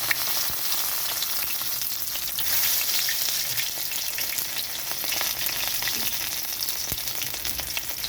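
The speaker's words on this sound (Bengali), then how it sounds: "ওই তেলের মধ্যে দিয়ে দিচ্ছি রসুন" Garlic fries in oil left over from frying fish for a Bengali bata fish curry, a dense, steady crackling sizzle close to the pan with scattered sharp pops and no voices.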